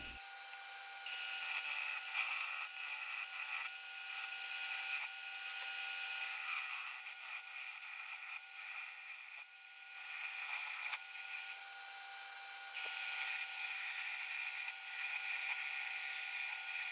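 A woodturning gouge cuts a painted, spalted and cracked elm blank on a lathe with a continuous high, buzzing scrape that shifts as the tool engages and eases off, with brief pauses.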